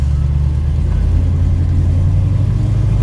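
A 1968 Chevrolet Camaro cruises at just over 20 mph, heard from inside the cabin as a loud, steady low engine rumble and drone with no talking.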